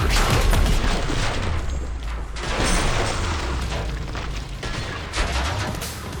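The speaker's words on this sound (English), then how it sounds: "Since it's a nailgun, it feels like firing a shotgun kitted out with a foregrip and very good suppressor." Nailgun weapon in a first-person shooter firing in quick, muffled, suppressed-sounding bursts with mechanical clanks, dense and close over several seconds.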